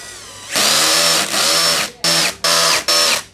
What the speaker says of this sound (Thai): แล้วเราก็พลิกขึ้นมาแล้วก็ขันน็อต ครับ ขันให้มัน แน่นๆเลยครับ